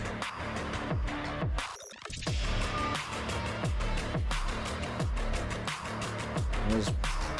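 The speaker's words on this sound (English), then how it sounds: "this is the kind of music that I need for the game actually" Progressive electronic music track auditioned for a video game, with a steady pulsing beat, a thumping low pattern and dense layered synths, playing alone at moderate level after a brief break near the start.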